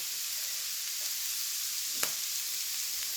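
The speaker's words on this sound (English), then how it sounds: "Just stir that through and then just let it caramelise a little bit." Onions frying in a pan with garlic powder stirred through them, a steady soft sizzle with a light clink of a utensil midway.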